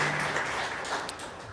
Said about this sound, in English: Give her a shout of applause there.